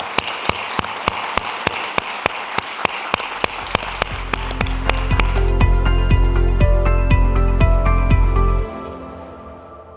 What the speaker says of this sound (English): So thank you to our panelists. This was wonderful. A big round of applause.